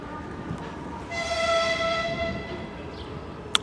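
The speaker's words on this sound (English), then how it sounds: "You can tell I'm doing this at the railway station" A train horn sounds at the Slyudyanka railway station beside Lake Baikal, a sustained tonal blast lasting over a second over rumbling station ambience, followed by a sharp brief clack near the end.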